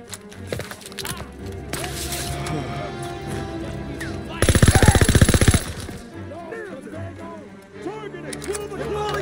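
A short burst of rapid automatic gunfire from a weapon in Call of Duty WW2 hammers out loudly for about a second midway, set against ongoing battle ambience and scattered smaller shots, with voices present.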